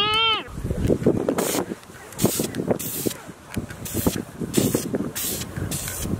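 Repeated short bursts of spray hiss from a can of paint on interior parts of a Nissan 350Z, sounding in quick intermittent puffs with scattered handling noise and a brief voice at the start.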